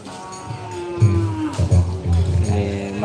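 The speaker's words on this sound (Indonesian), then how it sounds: "banyak sapi-sapinya ternyata" Cattle gathered at a bull race event in Indonesia, with several low, drawn-out moos and bellows from nearby animals over a background of crowd murmur.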